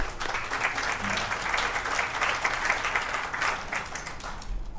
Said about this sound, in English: So a big round of applause goes out to our faculty for putting that together